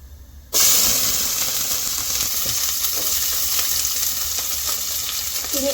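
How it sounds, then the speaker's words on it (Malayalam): Garlic drops into hot oil already popping with spluttered mustard seeds for a white bitter gourd pickle. A sudden loud hiss erupts and holds as a dense, steady sizzle up close. "അപ്പോൾ കടുക് പൊട്ടി വന്നിട്ടുണ്ട് അതിലേക്ക് വെളുത്തുള്ളി ഇട്ട് കൊടുക്കുവാണ്"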